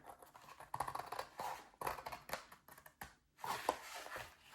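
Scissors snipping through a paper file folder beside its tab, a series of crisp close cuts in short bursts with brief pauses between strokes.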